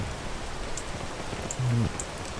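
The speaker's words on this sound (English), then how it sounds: "Let's just wait for the rain to stop." Steady rain falls throughout a video game scene, a continuous hiss with a brief low tone rising near the end.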